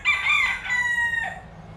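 A single loud rooster crow rings out nearby, a drawn-out strained call that tails off, heard alone without speech.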